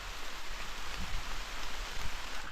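Steady rain falls outdoors during an evening outing, a soft, even patter of drops on surfaces that holds constant throughout with no voices.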